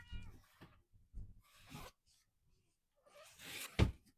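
A cat meows several times indoors near a box of books, short close cries in separated bursts with a louder, sharper meow near the end.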